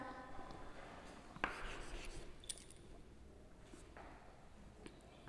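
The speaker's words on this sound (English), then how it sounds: "I'll write here itself." Faint scratching strokes of writing on a board in a quiet classroom, soft and intermittent, with a few sharper taps between the strokes.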